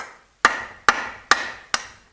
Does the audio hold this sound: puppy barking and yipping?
no